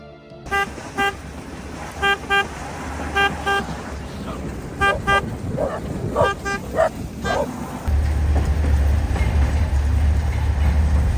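The Kalka–Shimla mountain toy train rumbles past with several short, repeated horn toots in bursts, followed by a louder, steady rolling noise of the carriages close by.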